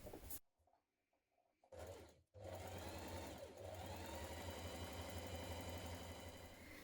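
Domestic sewing machine stay stitching the neckline of a jumpsuit, a steady close mechanical whir that starts after a brief pause and runs continuously at even speed to the end.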